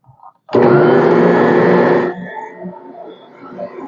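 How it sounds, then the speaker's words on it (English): A Boss stand mixer starts up loudly on whole grain bread dough, a strong motor whir for about a second and a half that then drops to a lower, uneven churning hum, close by. "using my new Boss mixer."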